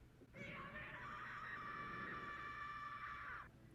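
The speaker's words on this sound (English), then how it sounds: "Scream." A long, loud, sustained scream from an Attack on Titan anime episode rises abruptly, holds at a strained pitch for about three seconds, then cuts off, heard alone without talk.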